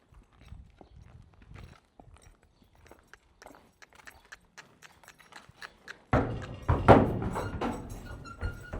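A horse's hooves step into a trailer: scattered soft hoof thuds and clops at first, then a loud hollow burst of clattering as it walks onto the trailer floor, the stamping continuing close by.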